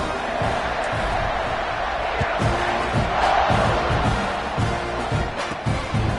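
A large stadium crowd in the college football video game NCAA 26 roars continuously, a dense wash of cheering and shouting that swells slightly midway, with a few sharp thuds underneath.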